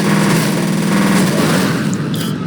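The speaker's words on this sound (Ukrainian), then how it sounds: "Десь стріляють." Gunfire in the shooter game F.E.A.R. (Russian-localised edition): a dense, continuous rattle of shots with a rumbling game soundscape beneath it, loud and unbroken for the whole stretch with no talk.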